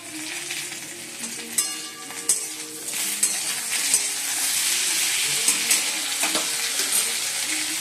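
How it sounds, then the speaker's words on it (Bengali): Tomatoes go into a wok of frying potatoes, setting off a loud, close sizzle that swells after they land, with intermittent clinks and stirring scrapes and no voices. "এবার টমেটো দিয়ে দিচ্ছি"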